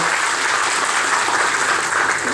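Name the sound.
audience applause at a political meeting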